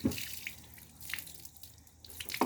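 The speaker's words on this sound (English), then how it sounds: "I think that's water" Water from a grey water tank container dripping at a campsite, faint scattered drops and small trickles in a quiet setting, close by.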